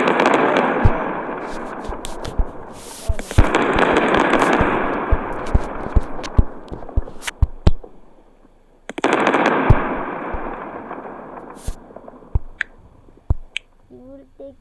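Bombs of every type exploding on regular land in the sandbox game WorldBox, a loud, dense barrage of crackling blasts and sharp pops in two long waves separated by a brief lull.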